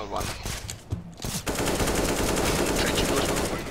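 Counter-Strike gunfire, a few sharp close shots followed by a sustained rapid automatic burst that fills the second half, loud and dense, with players' voices mixed in briefly.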